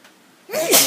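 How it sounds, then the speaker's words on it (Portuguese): A single sharp allergy sneeze, close and loud, a short intake followed by a forceful burst. "Espirrar por causa da alergia"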